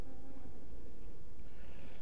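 Bees buzz in a dense, continuous drone close to an open beehive. The hum holds steady for about two seconds and no voices are heard.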